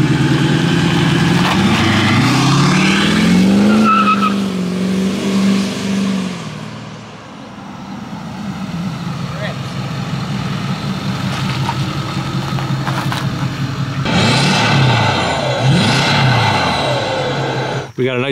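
A Ford 6.4 Powerstroke diesel truck engine idles and revs with a deep rumble and rising, falling throttle sweeps, close by, while people talk over it much of the time.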